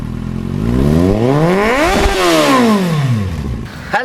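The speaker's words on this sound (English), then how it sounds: "Bajaj is given a very strong engine." A Bajaj Pulsar NS 125 motorcycle engine revs up to a peak and falls back in one smooth sweep, loud and close, with a short clatter at the end.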